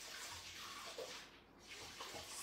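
Water from a carafe pours quietly and steadily into a cooking robot's bowl, a soft continuous trickle heard alone.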